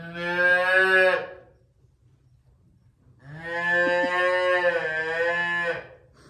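Calves moo in two long, loud, drawn-out calls separated by a short pause, close to the microphone with no other sounds around them.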